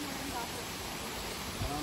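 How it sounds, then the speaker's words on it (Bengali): A waterfall pours down steps of rock in the forest of Buxa Tiger Reserve, a steady broadband rush filling the whole short stretch without pause. "এই যে এখান থেকে ঝর্ণাটা নেমেছে।"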